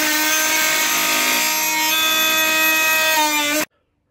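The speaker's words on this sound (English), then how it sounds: "here is the Dremel blade versus the 2x4." A Dremel oscillating multitool blade cuts into a wooden 2x4, giving a loud steady buzzing whine rich in harmonics that shifts slightly in pitch partway through, then stops abruptly.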